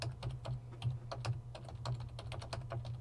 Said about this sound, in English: And I'm typing that.